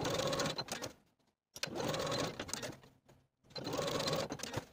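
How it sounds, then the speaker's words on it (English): A sewing machine stitches pocket facings onto a dress with a 5/8 inch seam allowance, running in three steady bursts separated by brief pauses, close and fairly quiet, with no talking. "Then I'll sew these facings on both sides with a 5/8 inch seam allowance."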